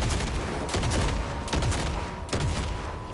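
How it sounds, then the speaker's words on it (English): Gunfire in a Fortnite match, rapid bursts of shots cracking repeatedly over a noisy background, fairly loud and continuous across the moment. "Shooting in front."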